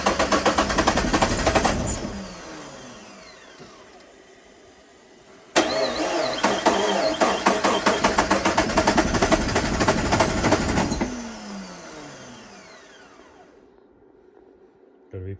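A twin-turbo Subaru engine cranks and catches, runs briefly, then dies. It restarts with a sharp burst and idles loudly for several seconds before cutting out again, close by.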